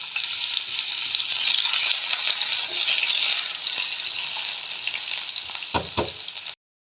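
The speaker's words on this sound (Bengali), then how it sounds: "আলুগুলো ভেজে নেব।" Cut potatoes frying in oil with bay leaf and dried red chili, a steady close hiss of sizzling oil broken by a couple of sharp utensil clinks near the end, then sudden silence; nobody speaks.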